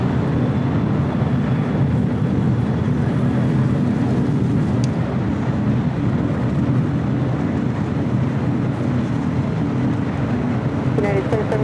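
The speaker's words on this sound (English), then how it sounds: "Also Korean Air Flight 12, the A380 Super, taxiing over" A Korean Air A380 jet taxiing for takeoff at LAX, a loud steady engine rumble and whine with constant level and no breaks, heard close to the microphone.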